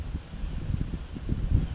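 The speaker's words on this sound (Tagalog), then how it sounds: "laki din ng hangin" Gusty wind buffets the microphone in low, uneven rumbles, with a faint hiss behind it.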